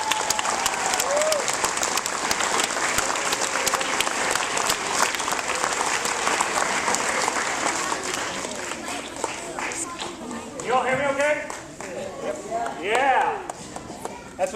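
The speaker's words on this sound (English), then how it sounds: "Please give him a round of applause." Audience applause at an outdoor Veterans Day ceremony, dense steady clapping from a crowd that fills the scene, with voices rising over it near the end.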